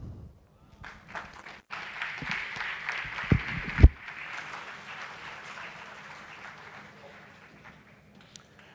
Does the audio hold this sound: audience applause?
yes